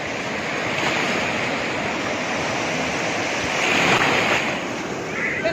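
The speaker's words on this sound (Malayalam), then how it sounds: "വെള്ളം കയറുന്നുണ്ടോ? കടൽ കയറി." Sea waves surge and wash onto Azheekal beach in a steady, loud roar of surf with a swelling rush near the end, no voices over the water.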